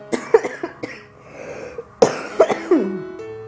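Several harsh, uncontrollable coughs burst out in quick succession at close range, separated by brief strained gasps for breath, with no talking.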